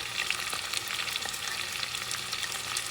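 Chopped garlic sizzles steadily in a hot pan for a bison meat sauce, a continuous bright frying hiss with small crackles and no voices.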